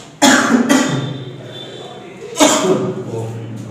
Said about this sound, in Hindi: खांसी तो आ ही जाएगी, जानते ही हो।